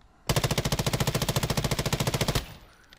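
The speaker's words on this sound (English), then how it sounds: "First, the hip fire, and we will not control it at all." An M13B rifle fires full-auto from the hip on a video game shooting range, a rapid, even burst of about two dozen loud close shots lasting roughly two seconds before stopping abruptly.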